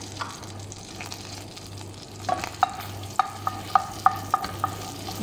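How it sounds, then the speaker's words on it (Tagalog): Garlic sautéing in butter in a pan while cooking prawn pasta, a steady sizzle with stirring scrapes and a run of sharp crackles and pops in the second half, no talking. "mag-gisa na tayo"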